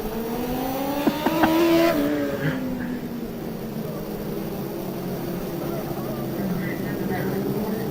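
Race cars circle an oval track through turns one and two under yellow caution lights late in a race-night event, their engines droning loudly and sweeping past nearby beneath continuous commentary.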